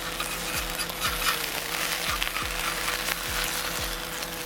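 A crispy cheese smash burger fries on a griddle at a camping trip with a constant close sizzle, while a low rhythmic hum of an engine or generator thumps along underneath.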